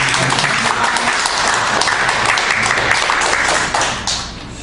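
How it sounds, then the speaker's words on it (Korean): A church congregation at a Wednesday prayer service claps warmly, producing dense, steady, fairly loud applause that holds for about four seconds before thinning and tapering off. "우리 두 분께 뜨거운 박수 한번 보낼까요?"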